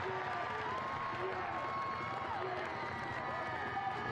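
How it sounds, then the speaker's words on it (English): Football stadium crowd cheering for Texoma FC during a penalty moment, a steady dense roar of many voices filling the space, with a commentator talking over it throughout. "you can hear the enthusiasm in the crowd"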